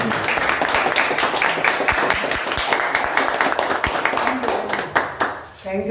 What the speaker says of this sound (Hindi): तालियां भी डबल बजती हैं